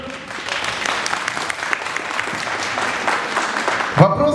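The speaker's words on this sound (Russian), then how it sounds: "Аплодисменты участницам." Steady, full applause from an audience for contestants at the Miss Bellycharm belly-dance pageant, continuous clapping that ends with a brief louder sound near the close.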